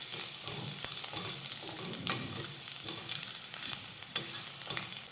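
Garlic sautés in a pan for a dry brinjal bhaji with a close, busy sizzle. Quick stirring scrapes recur every second or so and are loudest around the two-second mark. No voice is heard.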